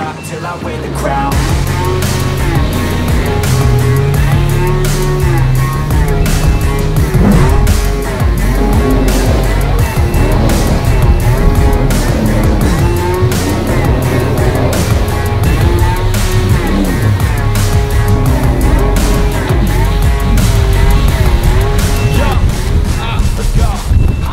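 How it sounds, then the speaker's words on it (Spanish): A jet ski riding over waves at the beach, its engine droning steadily with wind and water rush throughout, while people talk and shout over it. "Está muy chido Negadín, está muy chido manejar una moto acuática"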